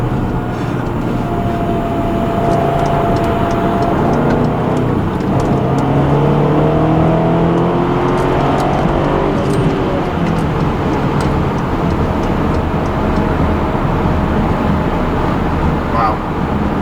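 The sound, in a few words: 2011 BMW X5 M accelerating hard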